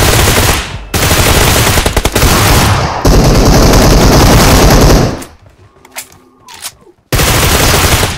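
Loud rapid automatic gunfire in the battle-royale video game PUBG Mobile, long sustained bursts that stop for a quieter stretch and then resume abruptly at close range.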